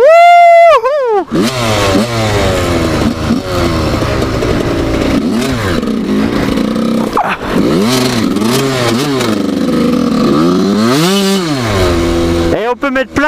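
An 85cc enduro motorcycle held at full throttle with the rear wheel spinning, a loud, close, high buzzing engine whose pitch rises and falls through repeated revs, with clattering under the engine.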